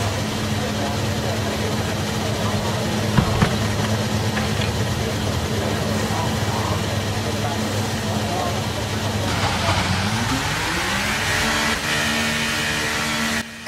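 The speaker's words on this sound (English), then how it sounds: "And here we go, firing into life for the first time." An F1 car engine in the F1 23 racing game fires into life, a steady low engine drone rising in pitch near the end as revs climb, loud and continuous.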